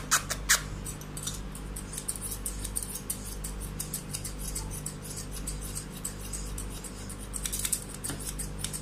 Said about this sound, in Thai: นี่จะใช้กรรไกรตรงนะครับ